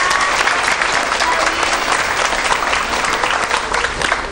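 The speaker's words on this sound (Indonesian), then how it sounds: "Kita berikan tepuk tangan untuk Pelangkung Gading TVRI Jogja." Studio audience applause on the TVRI Jogja evening broadcast programme Plengkung Gading, a dense, steady wash of many hands clapping loudly and continuously throughout, with no voices over it.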